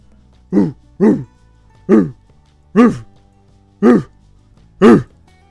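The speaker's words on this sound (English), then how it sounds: "Oh, here comes Spoiler, my dog." A dog barks six times in separate, loud, close single woofs spaced about a second apart, with quiet between each bark and no talking.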